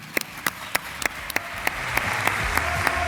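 Audience applause at a vocational-training graduation ceremony, sparse sharp claps building into a steady wash of clapping from a crowd across the whole stretch.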